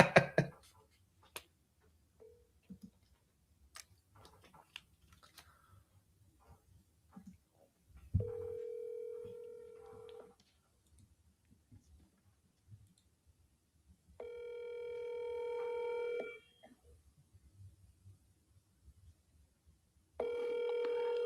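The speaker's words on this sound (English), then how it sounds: "Answer your phone, dude." Ringback tone on an outgoing phone call, three long steady rings spaced several seconds apart with quiet gaps and faint clicks between them, heard alone without talk.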